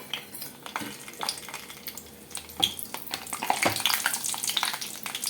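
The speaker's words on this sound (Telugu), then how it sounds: "ఆయిల్ హీట్ ఎక్కిందండి ఫస్ట్ మనం పోపు దినుసులు వేసేసుకున్నాము" Tempering spices crackle and sizzle in hot oil for gongura chutney, with scattered clinks of a utensil against the pan.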